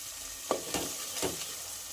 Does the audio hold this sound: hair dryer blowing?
no